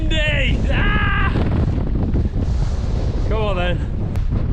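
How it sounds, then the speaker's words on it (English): Strong wind roars across the microphone on Hart Crag summit in the Lake District, UK, a steady loud buffeting throughout, while people's voices cut in over it in bursts. "It's windy!"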